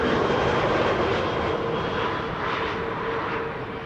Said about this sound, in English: Qatar 777-300ER arriving from Doha, flight 273.